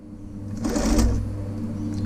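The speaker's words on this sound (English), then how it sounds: "Needle down, 3 reverse stitches to start" A sewing machine stitches a seam for a zippered travel roll case, starting with three reverse stitches: a steady mechanical whirr with low motor hum that swells and fades over about two seconds, close and alone.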